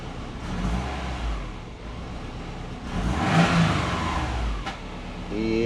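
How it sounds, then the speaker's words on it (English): A warmed-up car engine is revved in a garage, idling steadily, then rising into a louder rev around the midpoint before settling and picking up again at the end, with no talking. "Let's give it a bit of a rev"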